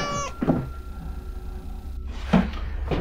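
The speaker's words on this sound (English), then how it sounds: "No, that's Sega, my cat" A pet cat meows a few times indoors, with short thuds like a cupboard or door closing between the cries.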